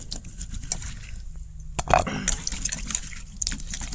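Radish being washed and mashed by hand in water, with close splashing, dripping and sloshing sounds and a brief pause in the middle, a voice speaking faintly.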